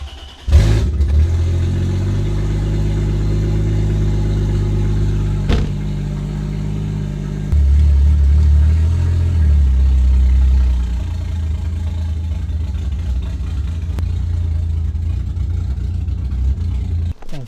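A Toyota Mk4 Supra Turbo engine cranks, catches with a loud start, then runs steadily close by, its idle briefly swelling with a few blips of revving before settling back to a continuous rumble.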